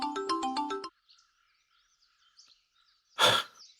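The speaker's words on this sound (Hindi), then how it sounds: "अब मुंह क्या देख रहा है, फोन उठा और बात कर।" A phone ringtone plays a short, bright melodic phrase of several rapid repeated notes, then stops, leaving near silence before a brief sharp noise.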